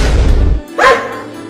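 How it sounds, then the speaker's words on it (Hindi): Two close dog barks, a deep woof followed by a sharper, higher bark, then quiet. "कुत्ते घूम रहे हैं"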